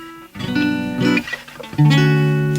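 Musical chords played on an instrument during a radio interview, several sustained harmonic chords in succession, loud and close, with no talking over them.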